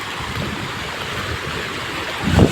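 Water in a stream rushes toward a village dam, a steady broadband roar heard close up, swelling briefly near the end.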